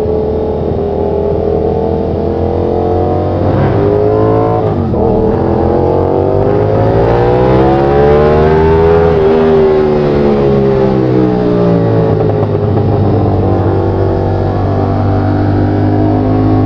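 A Nissan car engine revs hard on the throttle during a run on the NLEX, a loud sustained drone whose pitch rises and falls repeatedly as the revs climb, with no talking.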